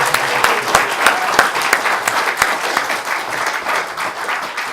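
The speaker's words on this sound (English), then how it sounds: "And a bigger round of applause for Mr." A comic con audience at a Doctor Who Q&A applauds loudly, a thick burst of clapping with distinct sharp claps up front, holding steady and gradually easing toward the end.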